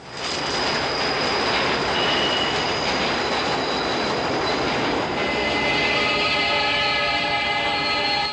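New York subway train in a film scene, loud and close, with a continuous rumbling rush and high metallic wheel squeals that grow sharper and more sustained toward the end.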